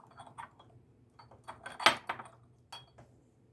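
Small hard objects clack and tap on a glass tabletop, forming several scattered light knocks with one louder, sharper strike in the middle, all close and otherwise quiet.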